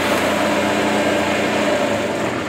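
A faulty motorcycle engine runs loud and steady close by, a constant dense mechanical drone with no pause or clear rev change over the short stretch, and no talk over it.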